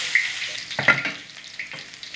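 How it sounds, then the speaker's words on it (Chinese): Garlic sizzles sharply as it hits hot camellia-seed oil in a wok, with a loud crackling burst and a couple of stirring scrapes over the steady hiss. "蒜放进去爆炒一下"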